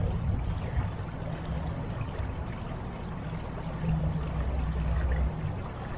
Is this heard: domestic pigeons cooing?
no